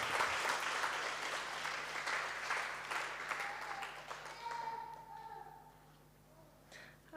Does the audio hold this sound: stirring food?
no